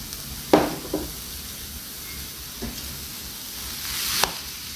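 Grated coconut, sugar and khoa being sautéed in a pan over a low flame for coconut vadi, with a soft continuous sizzle and a few sharp scrapes of a spoon against the pan, no voices.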